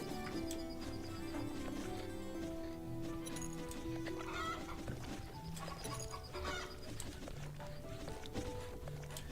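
Chickens cluck and fuss in the Hearthlands strategy game, mixed with horse clip-clops, whinnies and game music, all fairly faint and continuous.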